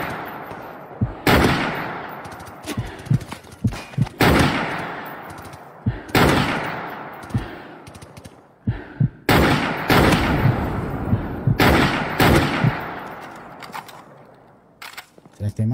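Rapid bursts of gunfire from a GTA shootout ring out loudly, sharp cracks in clusters with brief gaps, while a player talks over the action.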